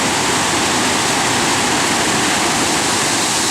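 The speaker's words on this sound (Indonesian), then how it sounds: "menikmati keindahan sungai ini dari bendungan Jeram ini" River water rushing over the Jeuram dam weir in Aceh, a loud, dense, continuous roar close to the microphone with no pauses.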